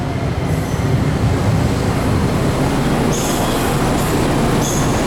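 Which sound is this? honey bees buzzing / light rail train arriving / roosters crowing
light rail train arriving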